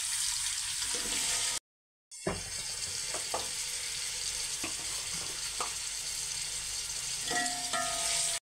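Two vegetables tossed into a pan of sizzling ginger and garlic for a macaroni Chinese rice dish, a sustained hissing sizzle with a brief gap, then scattered clicks and scrapes of stirring, close and loud.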